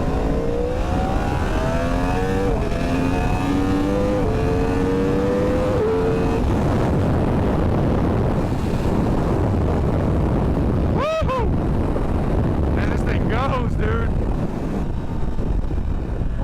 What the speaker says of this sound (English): Give her a rip really quick.